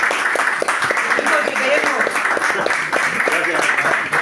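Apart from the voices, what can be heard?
audience applause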